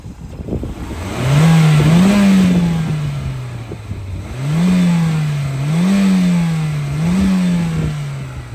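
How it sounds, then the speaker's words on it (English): A turbocharged 1996 Toyota Celica GT-Four ST205 with a 3S-GTE engine revs up several times in a row, each rise climbing and then falling back to idle, loud and close with no talking. "I'm gonna do some engine revs"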